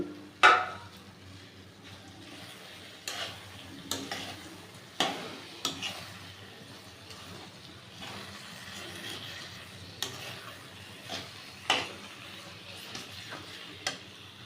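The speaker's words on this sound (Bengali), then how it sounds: "এবার সেই ভাজা আলুগুলো আমি এর মধ্যে দিয়ে দিচ্ছি আলুগুলো একটু কষে নেব" Fried potatoes stir-fried in masala for a potato and prawn curry, a soft continuous sizzle with regular scraping strokes of a spoon against the pan every second or so, close but fairly quiet.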